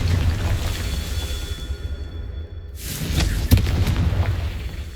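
A Confringo blasting spell from the Hogwarts Legacy video game, a deep rumbling boom that fades to near quiet, then a fresh explosive burst with crackling debris and a sharp hit, loud and close.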